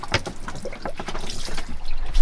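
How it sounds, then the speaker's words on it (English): Laundry is rinsed in fresh water and wrung out aboard a sailboat at sea, giving close, steady sloshing and trickling water for a couple of seconds. "this is the freshwater rinse, and you just rinse it and wring it out"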